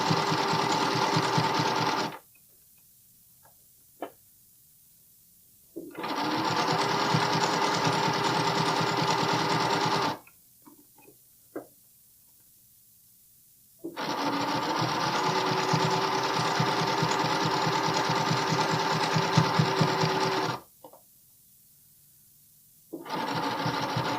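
A sewing machine stitches elastic onto a bralette in three long, loud bursts of rapid, even whirring, separated by quiet pauses with small handling clicks, close by and with no voices.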